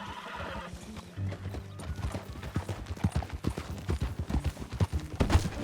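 Horse hooves clip-clop in a brisk, uneven rhythm in the video game Red Dead Redemption 2, close and loud, with a short whinny near the start.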